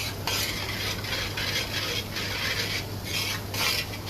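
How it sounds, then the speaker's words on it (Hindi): Masala for paneer rogan josh being sautéed in a pan, with a steady close sizzle and repeated scraping stirs from a spoon, rhythmic and continuous throughout with no talking. "भूनते रहेंगे जब तक इसका प्रॉपर तेल बाहर नहीं आता"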